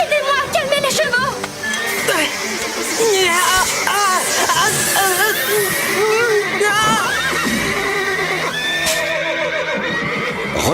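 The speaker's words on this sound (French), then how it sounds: "Marie et Rosa, aidez-moi à calmer les chevaux!" Several horses neigh and whinny in panic at close range in a western film scene, loud repeated cries over clip-clop hooves and background commotion.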